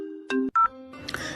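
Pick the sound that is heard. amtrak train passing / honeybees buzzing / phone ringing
phone ringing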